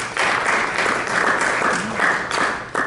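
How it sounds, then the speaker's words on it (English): A festival film-screening audience applauds steadily, a dense wash of clapping that holds through the whole stretch with slight swells and no speech over it. "Can we just have another round of applause?"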